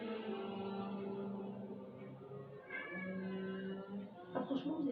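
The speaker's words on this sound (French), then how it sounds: "le chat qui fait du bruit, qui miaule" Cat meowing in a drawn-out, wavering cry, faint and somewhat distant, with a voice talking at low level in the room.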